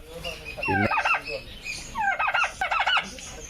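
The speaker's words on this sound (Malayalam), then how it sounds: "ടർക്കി കോഴികളെ വളർത്തുന്നുണ്ട്" Turkeys gobble in loud rattling bursts, one early and two more close together later, with other birds calling faintly in between.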